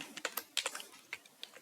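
Close, quiet keystrokes tap out C++ code on a computer keyboard in an irregular, quick rhythm.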